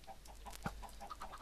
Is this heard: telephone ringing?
no